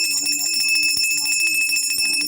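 A metal ritual hand bell rings in rapid, continuous tinkling strokes during a house groundbreaking puja, bright and close, sustained across the whole stretch without a break.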